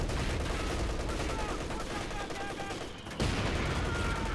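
Steady machine gun and rifle fire with mortar impacts in the World War II strategy game Company of Heroes 2, a dense rattling fusillade with a heavy blast near the end.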